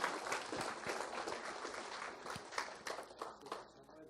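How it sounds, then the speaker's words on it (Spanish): A church congregation applauds during a Spanish-language worship service, a dense, steady wash of clapping that fills the whole clip with faint voices mixed in. "Denle un aplauso al Rey Jesús en esta mañana"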